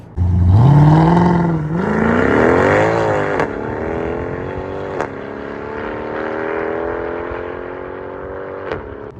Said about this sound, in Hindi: जब भी आप एक्सेलरेट करते हो वो V8 का नॉइज़ है